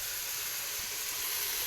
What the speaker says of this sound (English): I've got a pot of boiling water here with lots of salt in it